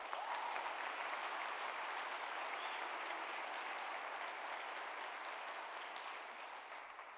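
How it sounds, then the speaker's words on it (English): Audience applause at a university's State of the University address, a sustained wash of many hands clapping in a large hall, fairly distant and steady before tapering off slightly at the end, with no talk over it. "Let's give him a big round of applause."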